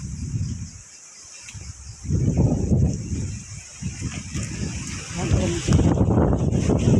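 Strong wind roars steadily across the microphone, buffeting in gusts, while a voice talks intermittently over it.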